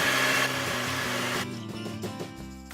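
A hand mixer whirs steadily while whisking cake batter for a chocolate chip banana cake, a continuous motor drone that shifts pitch and eases partway through.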